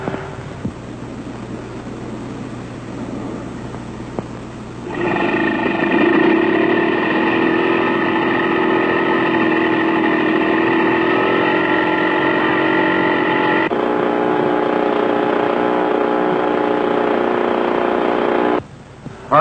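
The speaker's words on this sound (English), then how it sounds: "In this case, it's that portable generator you saw out there." A portable generator supplies external power for starting aircraft engines, its steady mechanical drone with tonal whine kicking up louder partway through and holding constant, then cutting back near the end.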